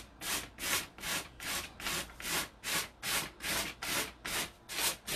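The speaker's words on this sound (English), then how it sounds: "I'm just literally sanding down and away" Hand sanding along the edge of a wooden furniture piece being decoupaged with wrapping paper: about a dozen steady back-and-forth rasping strokes in an even rhythm, close and fairly quiet, with no talk.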